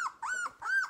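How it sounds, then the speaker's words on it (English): A puppy gives two high, tonal yips in quick succession, close and clear with no talk around them. "She's a barker too."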